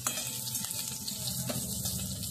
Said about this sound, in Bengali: আমটাকে একটু ভেজে নিচ্ছি।